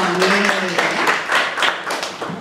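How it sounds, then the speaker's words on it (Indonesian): An audience at a Bali self-love gathering claps, a close, dense patter of hands that swells and fades over a couple of seconds, with a voice briefly audible beneath it. "Kasih tepuk tangan dong."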